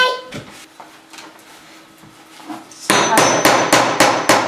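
A hammer strikes an awl during bookbinding, landing about five sharp, evenly spaced blows close by in the second half, after quieter handling noises and a few soft taps, with faint speech in the background.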